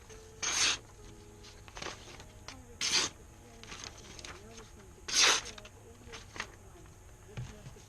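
A knife being sharpened by hand, heard as three separate rasping strokes spaced a couple of seconds apart over a faint, steady background.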